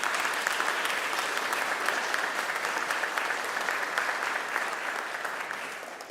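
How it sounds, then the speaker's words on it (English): Steady, even applause from an audience at a Martin Luther King Jr. Day gathering in Mississippi, a continuous wash of many hands clapping that tapers slightly at the end. "Let's give the Evers family and Rena a round of applause."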